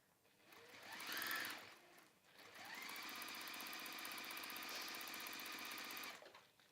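Sewing machine stitching the long edges of a simple crossbody bag, with a short whirring burst, a brief pause, then a long steady run of fast motor hum and needle rattle, close and alone.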